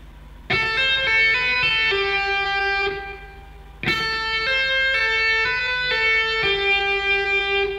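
Clean electric guitar notes ring out in two phrases, with notes sounded by hammering on and pulling off rather than picking, sustained and moderately loud.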